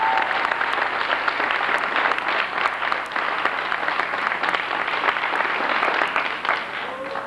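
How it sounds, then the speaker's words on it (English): An audience at a 1990 tennis awards banquet applauds the tennis team, a dense, steady round of clapping from a roomful of people that lasts the whole stretch. "So a nice round of applause for your tennis team."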